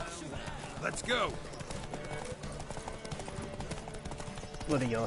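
Rhythmic clip-clop of galloping hooves in a horse race in The Witcher 3: Wild Hunt, with occasional shouts over the top and a background music bed.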